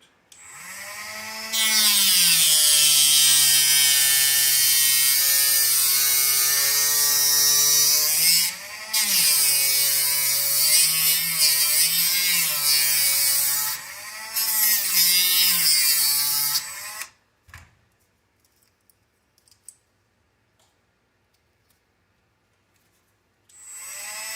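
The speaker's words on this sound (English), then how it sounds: "take my sanding drum and just sand that out" A high, whining rotary tool with a sanding drum grinds steadily against a plastic radio tray for about fifteen seconds with brief pauses and pitch dips, then cuts off into near silence.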